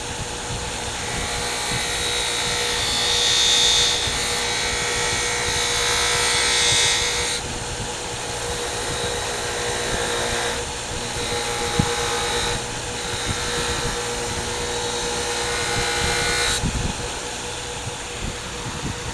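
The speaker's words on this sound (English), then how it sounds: "those little pieces of cloth are getting right in there and buffing the inside of this really, really small veiner" A cloth buffing wheel loaded with green compound spins against a very small veiner carving tool, giving a continuous motor whir with a high buzzing edge. Contact with the tool changes the tone every few seconds.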